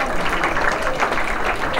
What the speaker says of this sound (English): Give him a round of applause for what he's doing.